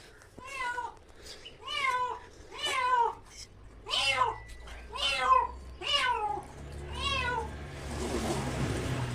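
A cat meows as it is rescued from water, giving about eight loud, drawn-out meows at a steady pace, each falling in pitch, followed by a patch of noisy rustling.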